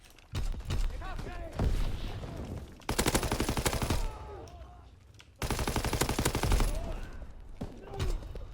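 Bursts of GPMG machine gun fire in Call of Duty WW2: sustained rapid volleys in several long strings with short gaps, loud and close, with a voice talking between them.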